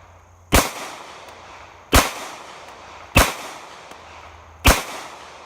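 Four loud, close pistol shots from a Taurus PT111G2, spaced roughly one to one and a half seconds apart, each a sharp crack with a short decay over faint background noise and no talking.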